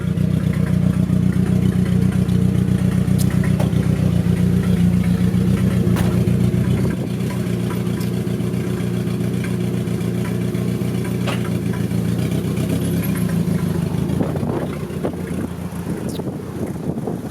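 A 1986 Nissan 720 pickup with a swapped turbocharged KA24DE engine and open downpipe idles with a deep, steady rumble that drops in level partway through, heard up close with some wind noise and no talk.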